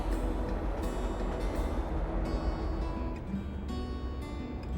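An Arkansas and Missouri Scenic Railroad train rolls through the Ozarks with a steady loud rumble and clatter of wheels on track that holds throughout.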